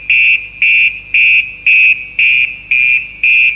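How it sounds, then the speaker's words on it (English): A firefighter's PASS device alarm, triggered when the wearer is motionless: loud, shrill electronic beeps in a steady repeating pattern, about seven pulses in quick succession, close and alone. "It emits an alarm."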